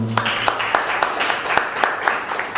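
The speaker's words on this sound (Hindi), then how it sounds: "एक बार उनके लिए भी जोरदार तालियां हो जाए" A church congregation at a Sunday service applauds with brisk, rhythmic clapping, sharp hand claps repeating steadily close by.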